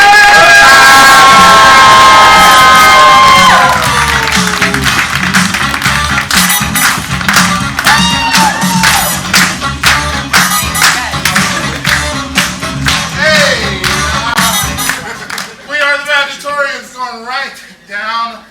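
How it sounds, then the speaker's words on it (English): A crowd at an improv comedy show claps and cheers loudly, with whoops and shouts, for a valedictorian; the noise swells at first, then breaks into scattered clapping and yells before a voice starts talking near the end. "Get your hands clapping"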